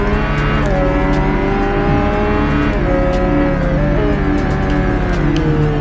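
A synthetic-sounding motorcycle racing engine in the video game Ride 2, a ZX7RR at the Nürburgring, drones loudly and steadily, its pitch rising and dipping as it shifts through gears, with no voices.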